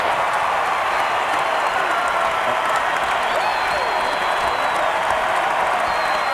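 Home crowd at a North Carolina basketball game against Wake Forest rising in a standing ovation, with dense, sustained applause and scattered cheering filling the arena steadily throughout.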